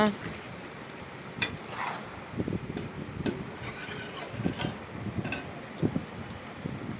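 Soft crackling sizzle of mutton cooking in a wok, with occasional clinks and stirring scrapes against low background noise.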